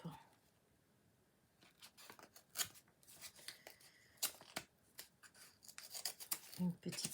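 Paper rustling and tearing as an envelope holding an Easter card is opened, quiet close crinkles and rips in irregular bursts, starting faint and growing busier.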